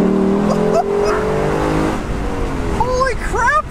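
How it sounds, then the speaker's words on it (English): The naturally aspirated 5-liter V8 of a 2021 Lexus LC 500 convertible revs hard from the cabin, rising and falling through gear changes, loud and close, with a voice speaking briefly over it. "the LC500 convertible here runs the 5-liter naturally aspirated V8 engine"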